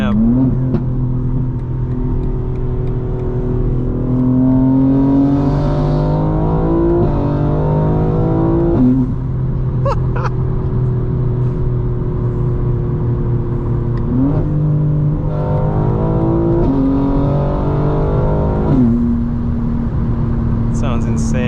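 A 900hp 2025 BMW M4 Competition xDrive accelerating hard through repeated gear changes, the engine rising in pitch and dropping at each shift, loud and close from inside the cabin with no talking.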